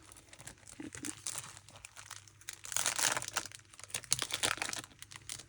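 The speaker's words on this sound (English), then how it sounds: "Be lots of crinkling in this video." Thin plastic craft packaging crinkled by hand, close, irregular rustling and crackling that swells louder midway, with no talking.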